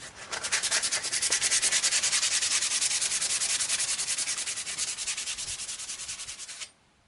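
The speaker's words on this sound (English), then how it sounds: "I've sanded on this for a few minutes now, and as you see I've got some bare metal showing through." Sandpaper rubbed by hand over the metal head of a Cold Steel Frontier Hawk tomahawk, a steady rapid back-and-forth scratching that runs loud and close for about six and a half seconds, then stops abruptly.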